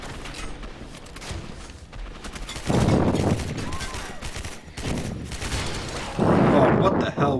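Gunfire bursts out in the first-person shooter Gotham City Impostors, with sustained automatic fire and heavy, booming blasts arriving in a few loud waves over quieter in-game background noise.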